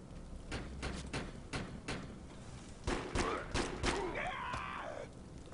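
Enemy riflemen fire in a combat video game, with sharp, irregular single shots and short bursts cracking out one after another at close to mid distance, plus scattered thuds and a faint voice.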